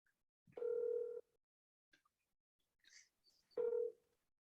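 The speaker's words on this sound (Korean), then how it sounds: "일단 한번 통화를 통해 가지고 마이크로 한번 들어보도록 하겠습니다" A telephone call dial tone played through a microphone: two steady ringback tone bursts, each about half a second, separated by quiet gaps with faint small clicks in the room.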